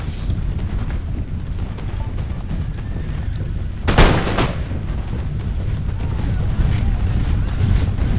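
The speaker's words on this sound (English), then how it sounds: "I'm going to line up this line infantry and start shooting into his units" Line infantry muskets fire in Empire: Total War, one sharp volley cracking out mid-way over a steady din of battle noise.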